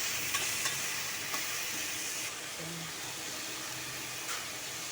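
Squid for adobong pusit sizzling and frying in a pan, a steady bright hiss with faint stirring clicks, close and continuous without talk.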